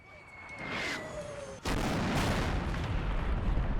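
Mortar fire in a video game: a rumbling barrage builds, then a single loud, sharp blast lands near the middle and leaves a dense, roaring tail of explosions and crackle.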